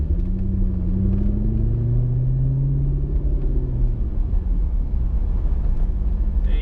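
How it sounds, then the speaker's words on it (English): A tuned car engine idles smoothly at about 700 rpm, a steady low rumble close by with a slight wavering drone in the cabin and no voices. "We're idling at a smooth 700."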